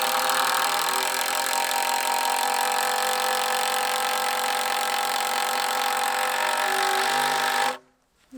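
A loud, steady mechanical whine of a power drill running continuously for several seconds, then cutting off abruptly near the end.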